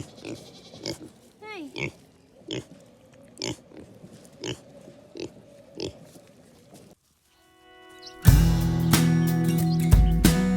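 Pigs on a farm grunt and oink in a steady series of short, close snorts. A brief word is spoken, and a loud burst of mechanical noise takes over near the end.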